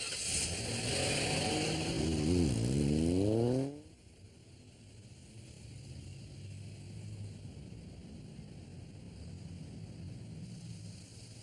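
A car engine revs loudly in a video game chase, its pitch sweeping up through several quick gear shifts before cutting off abruptly, leaving a low, steady background hum.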